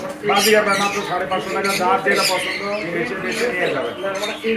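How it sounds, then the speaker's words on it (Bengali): Budgerigars chattering and squawking in a bird market shop, a busy, close chorus of warbling calls under a man's speech. "এখানে কিছু বাজিগার আছে"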